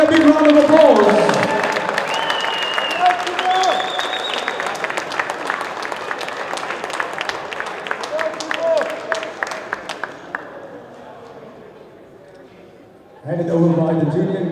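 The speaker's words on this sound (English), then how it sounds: "let's give the young man a big round of applause." A futsal match crowd applauds with steady clapping that fades out, briefly interrupted by a voice over loudspeakers before and after.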